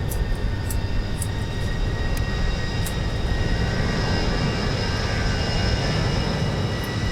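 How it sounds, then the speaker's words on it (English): An RJ100 airliner's APU spools up in Microsoft Flight Simulator 2024, a steady whine with faint high tones over a constant broadband rumble throughout. "get the APU started"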